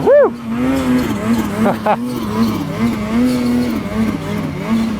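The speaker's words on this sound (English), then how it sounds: "Listen to that turbo squeal." Ski-Doo Summit 850 Turbo snowmobile running in alpine terrain near a tree line, with a sustained, wavering engine and turbo whine rising and falling under wind noise. A rider whoops loudly at the start.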